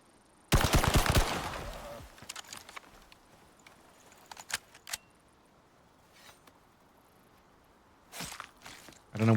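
Burst of automatic rifle fire in the survival video game Icarus: a rapid, loud volley lasting about a second and a half, followed by scattered fainter clicks and thuds, then a few more brief sharp sounds near the end.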